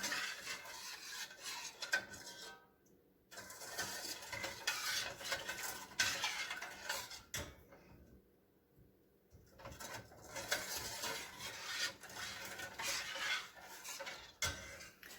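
Strawberry pie glaze cooking on a stove, stirred in a pot with steady scraping of a utensil against the pan, soft bubbling underneath, and a few short pauses between stirring passes.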